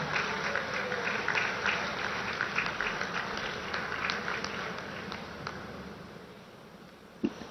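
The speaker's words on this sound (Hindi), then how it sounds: "आप सबकी तरफ से जोरदार तालियां अभिनंदन स्वरूप" An audience at a Deoghar event gives sustained applause to welcome the Prime Minister, heard as a steady, fairly distant crackle of many hands clapping for several seconds, with a faint thump near the end.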